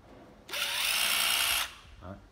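A Japanese cordless hammer drill runs in hammer mode for about a second, a loud buzzing rattle that starts abruptly and stops sharply, followed by a brief lower whir as it spins down.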